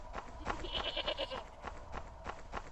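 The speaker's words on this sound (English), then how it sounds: "Like, look, I literally just heard the goat" A goat bleats faintly in Chupacabras: Night Hunt, a short quivering cry heard at a distance through quiet ambient game sound.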